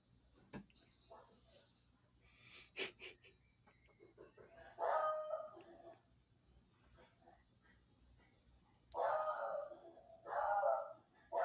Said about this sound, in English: My dog is hounding at someone who's just knocked on the front door.